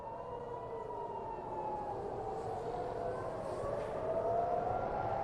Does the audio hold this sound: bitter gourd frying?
no